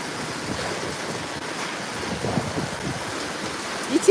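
Steady rain falls outside a house with a glass door, a soft continuous patter with faint rumbling beneath, growing slightly louder toward the end.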